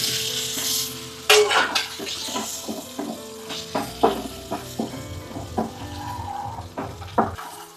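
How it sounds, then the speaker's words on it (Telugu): Boiled eggs frying in oil seasoned with turmeric: an initial loud hiss as they hit the pan, then a soft sizzle under repeated spoon scrapes and clinks against the vessel, close with no talk. "చిటికెడు పసుపు వేసి నూనెని బాగా కలుపుకొని ఇందులో బాయిల్డ్ ఎగ్స్ని వేసుకోవాలి."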